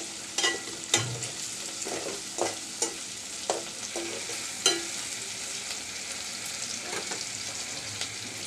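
Dried ribbonfish fries in oil under a steady, close sizzle while a utensil scrapes and stirs the pan in irregular strokes roughly every second, with no voices.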